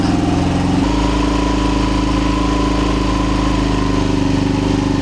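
A Yamaha Nmax 155 scooter engine fitted with a Vmax Onyx open muffler runs near 3,000 RPM, a loud, steady close-up drone that changes pitch slightly early on and then holds, with no talking.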